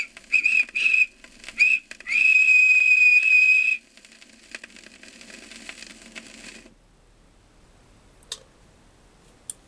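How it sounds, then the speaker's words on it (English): Thomas the Tank Engine's steam whistle gives several short toots and then one long sustained blast, loud and close, followed by quieter hissing and faint ticking sounds. "And Thomas, in return, always whistles."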